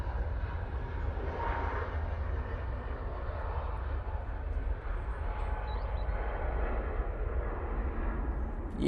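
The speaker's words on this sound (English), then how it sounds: "Beautiful A321neo in that .com livery." An Airbus A321neo jet airliner in .com livery at Manchester Airport gives a steady, broad engine roar that holds at an even level throughout, fairly distant, with no voices over it.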